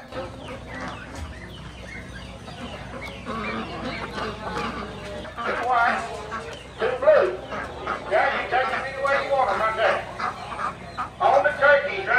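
Blue French Copper Marans chickens, four hens and a rooster, clucking and calling in a busy auction barn, with other fowl sounds and people talking nearby throughout.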